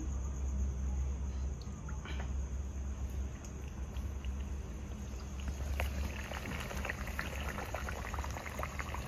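Dal puri dough drops into hot oil and bubbles up in a steady, close boiling fizz that continues evenly throughout, with faint crackles on top and no talking.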